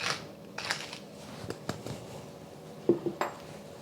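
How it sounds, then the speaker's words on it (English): A pot of seasoned food is stirred, producing scattered clinks and scrapes of a utensil against the pot, light taps spaced irregularly with a couple of sharper knocks near the end. "I'm gonna do a stir"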